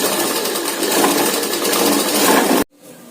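A sewing machine stitching a size 42 double katori blouse, running in a steady, loud, fast mechanical whir for over two seconds before stopping abruptly, leaving faint room noise.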